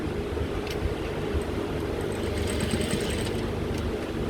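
Sewing machine running steadily while top-stitching a trouser zipper fly, a continuous close mechanical whir and rapid needle clatter without pauses.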